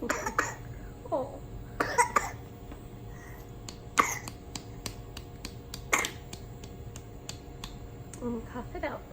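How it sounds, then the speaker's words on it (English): A baby's small coughs, a few sharp, close bursts spaced unevenly over a low indoor hum, with faint clicks and soft voice-like sounds between them. "Cough it out, little man."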